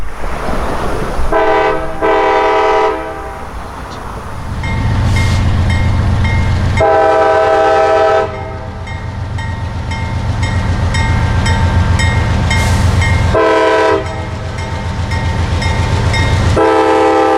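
A freight train pulls away, its locomotive horn sounding in several long, loud blasts over the steady rumble and clatter of the rolling cars, close by and with no talk.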